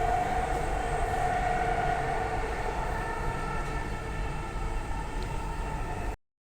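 A Dubai Metro train pulls into Centrepoint, the terminal station formerly called Rashidiya, with a steady loud rail rumble and a high whine that fades slightly before cutting off.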